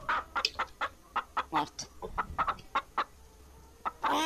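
Chickens in the Guild Wars 2 video game cluck in a quick run of sharp, separate bursts, fairly close and lively, with a brief spoken word near the end.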